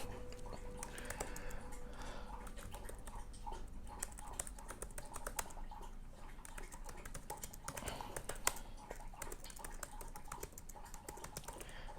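Rapid, continuous clicking of keys on a computer keyboard, steady typing rhythm throughout at close range, no talking.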